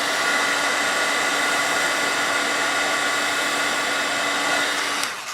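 Heat tool blowing on the back of a paper card during stamping, a steady close whirring hiss of fan and air that stops abruptly near the end, with no voices.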